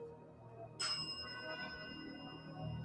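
A single bell strikes once sharply, then rings on with a long, sustained metallic tone that slowly fades over low background noise.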